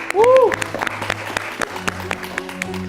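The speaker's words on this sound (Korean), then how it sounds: "박수 한번 쳐주시죠." A studio group gives a quick round of applause, a loud burst of close clapping with a voice cutting through near the start, then scattered claps and talk as it dies down.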